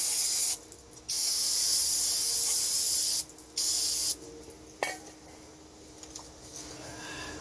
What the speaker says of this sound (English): spray some brake cleaner on there.